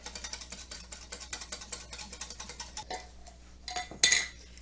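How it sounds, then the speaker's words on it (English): Broth powder is whisked into water in a measuring cup, a fast steady run of close metallic clinks and taps that ends in a louder clatter, with no talk. "we're going to add about 2 tablespoons of this broth powder. Let's give that a whisk."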